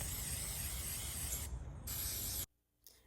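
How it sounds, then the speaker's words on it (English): A steady pressurized hiss of an aerosol can of spray chalk paint, sprayed outdoors in long bursts with a brief pause, then cutting off abruptly into near silence. "I took them outside and sprayed them with spray chalk paint."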